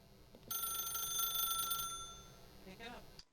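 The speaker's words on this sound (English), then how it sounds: "then pick up the phone" A telephone in The Stanley Parable video game rings with a bright, trilling electronic bell for about a second and a half, followed by a short spoken voice.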